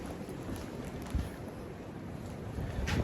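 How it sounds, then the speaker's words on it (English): Stormy wind buffets the microphone with a rough, continuous rush outdoors at a building site, swelling in gusts near the start and again toward the end. "a little bit windy today."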